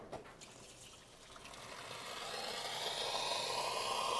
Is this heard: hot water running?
yes